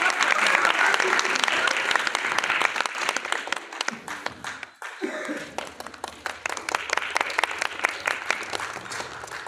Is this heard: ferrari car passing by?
no